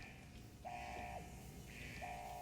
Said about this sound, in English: Currently, all of these are draining out, which is why the alarm is blaring.